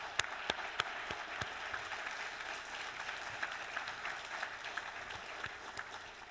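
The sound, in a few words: audience applause at library awards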